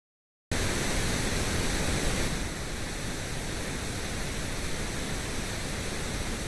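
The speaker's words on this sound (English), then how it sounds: "It's pink noise, which means it should be sort of a gentle slope going downwards like that." A steady pink noise test signal starts abruptly after a short silence and continues as a loud, even, broadband hiss, easing slightly in level partway through.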